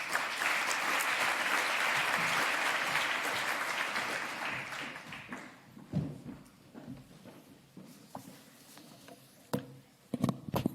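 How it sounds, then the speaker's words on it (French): Warm applause from a conference audience welcoming the governor of the Banque de France, dense and loud at first, then thinning into scattered individual claps and a few sharp late ones. "Merci de l'applaudir."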